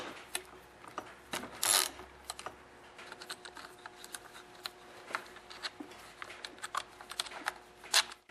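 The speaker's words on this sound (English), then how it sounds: "I'm using a 7mm socket to remove these 2 nuts here" A 7mm socket ratchets off two nuts from the cover of a Husqvarna 136 chainsaw, giving rapid close clicking and ratcheting bursts with a sharper clack partway through and no speech.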